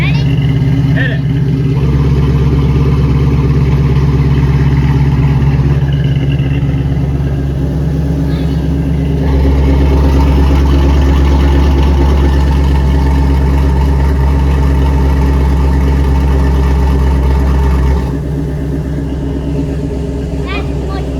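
A Toyota Prius fitted with a 5.3L V8 roars loud and close through its mufflers with exhaust cutouts closed, shifting between a heavy idle and stronger revs in long sustained stretches, with people talking over it.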